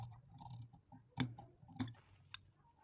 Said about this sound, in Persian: حالا قیچی میکنیم قسمت وسط که میخوایم زیپ بس باشه